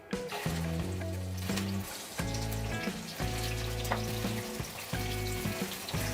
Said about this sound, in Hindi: अब इसमें भिंडी डाल देंगे सारी,